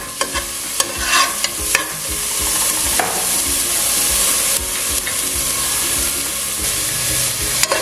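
Garlic and onion sautéing in oil for a lasagna meat sauce, a loud close sizzle with repeated spatula scrapes and taps against the pan, with no voices.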